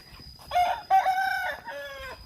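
A rooster crows on a rubber plantation by workers' housing, giving one loud, close, drawn-out cock-a-doodle-doo in several rising and falling segments, with no talking.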